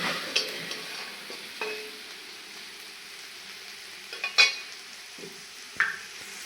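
Onion frying in a pan for a paratha filling, quiet steady sizzle with a handful of scattered spoon scrapes and clinks against the pan.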